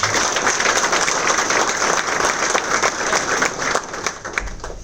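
An audience at a public event in Kolkata breaks into sustained applause, dense and steady clapping filling the hall for several seconds without pause.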